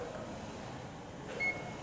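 The memory seat set button in a 2017 Hyundai Santa Fe gives a single faint, thin electronic beep near the end of an otherwise quiet cabin.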